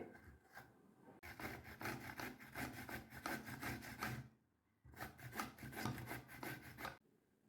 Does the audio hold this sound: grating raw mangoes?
yes